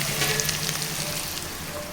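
Onion pieces frying in a pan over a medium gas flame, a steady close crackling sizzle with faint stirring and no voices.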